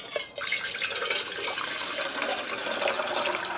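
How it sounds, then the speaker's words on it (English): Just over four cups of water poured into a pot on a BushCooker LT camp stove, a continuous close splashing and gurgling stream with no speech. "we're going to add a little more than 4"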